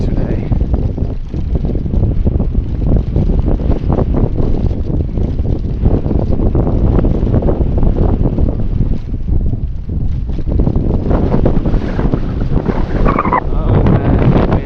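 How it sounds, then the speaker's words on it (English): Strong gusting wind buffets the microphone while cycling uphill outdoors, a loud continuous roar with surging peaks that covers the whole stretch. "It's really windy today."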